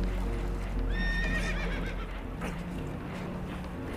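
Spooked horses on a boat in the video game Red Dead Redemption 2 give a loud whinny, with hooves clip-clopping and shuffling underneath amid a steady background rumble.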